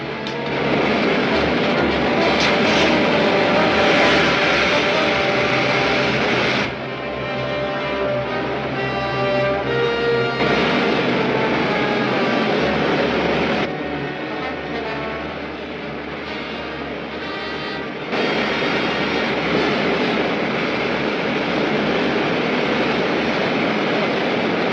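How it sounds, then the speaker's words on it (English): Main jets of a rocket ship firing in an old serial film, a loud continuous roaring rush with rumbling texture that shifts in level through several cuts, without speech. "Fire main jets."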